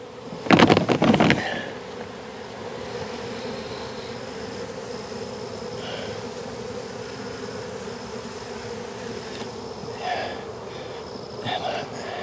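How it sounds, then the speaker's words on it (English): Honey bees hum steadily in a loud, continuous buzz after a smoked bee box is bumped. A sharp clattering thump comes at the start, and faint brief sounds occur later over the drone. "Just smoke a little, bump the bee box like that"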